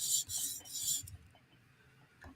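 A Chris Reeve Sebenza knife blade drawn across a 400 grit stone on a TSProf sharpening system, three quick, soft rasping strokes followed by a faint scrape, close and quiet.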